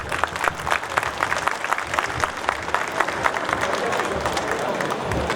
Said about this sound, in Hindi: तो कम से कम उतना ही बिना रुके बिना थके उनके लिए ताली बजनी चाहिए एक बार